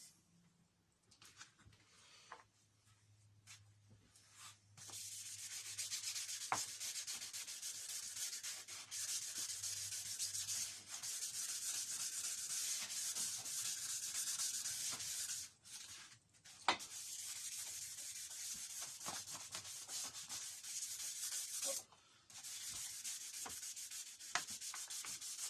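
Recurve bow limbs are hand-rubbed with 2000 grit wet and dry paper in quiet, steady back-and-forth scratchy strokes, broken by a few short pauses and light knocks.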